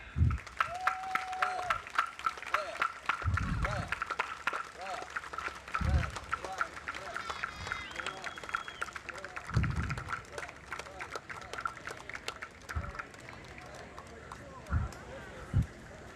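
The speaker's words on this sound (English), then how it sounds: "Oh, you can keep applauding for them all the way up the street." At a town fair parade, a crowd along the street claps for a passing marching band. Steady, scattered applause is heard at moderate distance beneath an announcer talking over it, with occasional louder thumps.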